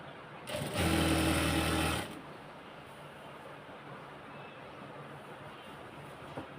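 A sewing machine stitches a lungi in one short, loud burst of steady whirring motor and needle chatter lasting just over a second, followed by a quiet room.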